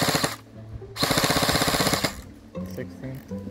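Bursts of rapid automatic fire from an H&K 416 airsoft electric gun running an 11.1 battery, loud and close, with a pause between bursts and lighter mechanical clatter at the end.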